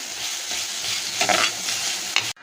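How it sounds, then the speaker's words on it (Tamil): Tomatoes with salt sizzle while being stirred in a hot pan, a close, steady frying hiss broken by scraping stir strokes before the sound cuts off abruptly. "இந்த உப்பு போட்டு வதக்கும் போது இந்த தக்காளி சீக்கிரத்தில் நல்லா சாஃப்டாகி வரும்"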